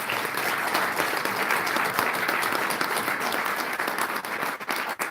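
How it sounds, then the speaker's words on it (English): Steady, sustained audience applause for a speaker after a talk on courage, dense clapping filling the room at even loudness throughout, alone without talk. "let's once again applaud Aaron Baer"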